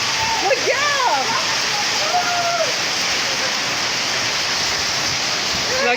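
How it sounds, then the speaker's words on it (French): Hailstorm in Kinshasa, hailstones pelting down in a dense, constant roar like a downpour, with excited voices calling out over it early on. "Une pluie de grelons, je vous dis."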